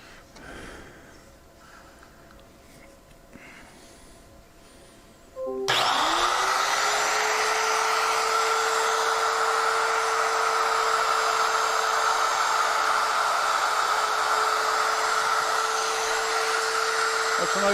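A wood router spins up abruptly after a few seconds of quieter room sound, then runs loud and steady with a sustained high whine that fills the rest of the clip.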